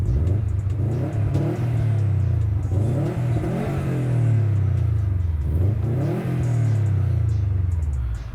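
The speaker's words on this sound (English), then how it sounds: "you can hear a lot more of that performance exhaust note, and it screams pretty loud" The engine of a 2018 Subaru WRX STI Limited with a performance exhaust is revved in neutral, loud and close, rising and falling in repeated throttle blips with a deep rumbling note.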